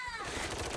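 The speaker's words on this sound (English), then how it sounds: "Oh, shooting." Rapid automatic gunfire rattles through a short video game cutscene, loud and close with dense overlapping bursts.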